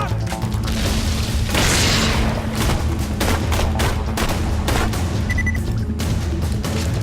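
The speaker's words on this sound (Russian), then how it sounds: "На гранату." A grenade explodes in the video game Borderlands 2 amid a nonstop, loud barrage of rapid gunshots and booming blasts, with a bright burst standing out early on.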